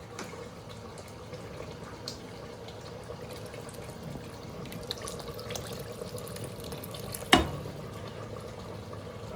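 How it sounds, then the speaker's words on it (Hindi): Water is poured into a cooking pot in a home kitchen as a steady, faint trickle, ending with one sharp clink near the end. "हम पानी थोड़ा और मिलाते हैं इसमें"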